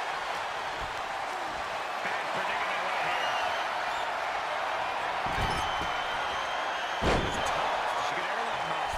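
The arena crowd in the WWE 2K23 wrestling game, a Payback cage match, makes a steady wash of cheering noise throughout. A few louder thuds and slams rise near the end, with commentary spoken over it.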